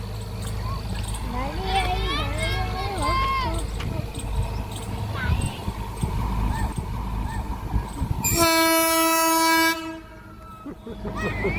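A train rumbles past as people talk nearby, then a loud, sustained horn blast rings out before fading to quiet.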